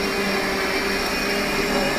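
Electric mixer grinding spices in a temple kitchen at Puri's Omkareshwar temple, a constant loud whirring drone that holds steady throughout without pause.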